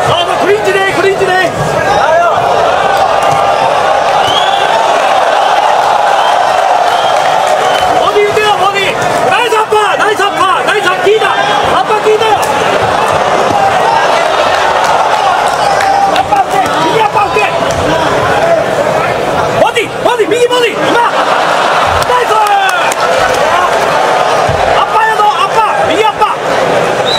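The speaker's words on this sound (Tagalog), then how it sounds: "Malakas ang sigawan ng mga fans ng Hapon na sumusuporta sa kanilang future world champion" A large crowd of Japanese fans shouts and cheers steadily for their fighter, a future world champion, during a clinch-heavy match. The roar is loud and continuous throughout, with commentators' voices over it.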